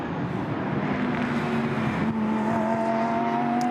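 Lamborghini Super Trofeo race cars accelerate at the Nürburgring, their engines rising in a loud, sustained droning whine that climbs in pitch from mid-distance. No speech is heard.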